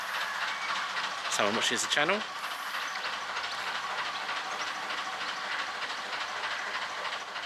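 Train engines pass along a railway near a canal, giving a continuous rumbling roll with faint clatter for the whole stretch, while brief chirping sounds and a person speaking briefly sit over it.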